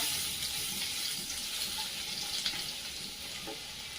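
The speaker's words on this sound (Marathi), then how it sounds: "ठेचलेला लसूण लसूण चांगला परतून घ्यायचा" Crushed garlic sautéing in a pan for a capsicum and potato dry bhaji, a steady hissing sizzle throughout with a few faint stirring knocks.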